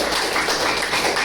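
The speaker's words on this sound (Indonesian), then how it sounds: "tepuk tangan untuk kelompok" Pupils in a classroom clap for a group of classmates, a fairly loud, brisk burst of many hands with a slightly uneven, pulsing rhythm.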